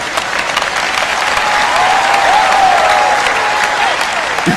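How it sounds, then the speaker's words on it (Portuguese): Audience applause at a large televised church event, a dense steady wash of many hands clapping throughout, loud and close, with a faint voice rising briefly above it. "agora você aplaudiu?"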